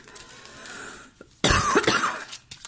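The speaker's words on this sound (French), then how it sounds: "je tousse beaucoup" After a quiet stretch, one loud, harsh cough bursts out nearby, followed by a few smaller rasps.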